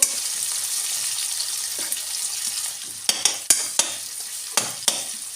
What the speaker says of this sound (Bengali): পেঁয়াজটা গলে যাওয়ার জন্য পেঁয়াজটা হালকা ভেজে নেব